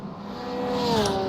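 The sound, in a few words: LMP2 and GTP prototype race cars approaching in iRacing video game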